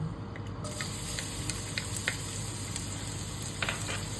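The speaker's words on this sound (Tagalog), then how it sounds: "Ayan guys, painit natin ating kawalit. Magigisa tayo ng ating gulay." Vegetables sautéing in a hot wok, a steady close hiss of sizzling oil with faint scattered clicks of stirring, continuous and moderately quiet with no talking.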